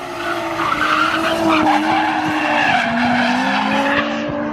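A retuned drift car with redone piping slides sideways with a loud sustained tire squeal over a droning engine note, steady and close for the whole stretch.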